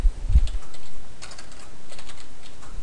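Keys clatter on a computer keyboard as a name is typed, a short burst of soft clicks near the mic at the start, then faint scattered taps over quiet room hiss.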